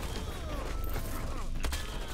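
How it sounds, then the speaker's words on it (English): A loud burst of explosions and rapid gunfire from the video game Shaq Fu: A Legend Reborn crackles in a dense, continuous barrage, with a sharp blast near the end. "Ah, explosion!"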